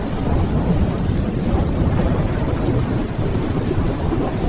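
A storm at sea, with heavy rain and rolling thunder, makes a dense, loud, unbroken roar that holds steady throughout, with no voices.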